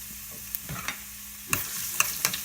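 Garlic goes into about two tablespoons of hot oil for a chicken curry and gives a quiet, low sizzle, broken by a few sharp clicks and scrapes of stirring, with no one talking.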